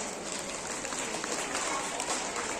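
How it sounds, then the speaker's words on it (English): Parents and students at a school National Maths Day event applauding a student's performance, a dense, steady patter of many hands clapping together in a hall, continuous and fairly loud. "So let us clap for Tejas."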